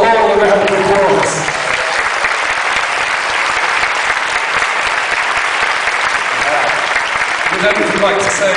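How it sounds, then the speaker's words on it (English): A festival audience applauds a group of short-film makers at a horror film screening, with loud, sustained clapping and crowd noise filling the whole stretch without a break. "Please give them all a round of applause."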